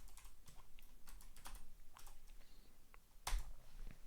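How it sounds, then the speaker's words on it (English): Steady keystrokes on a computer keyboard during a quadratic programming coding session, a continuous rapid patter of clicks with a few sharper taps, close and moderately quiet, with no voices. "I'm just typing that out."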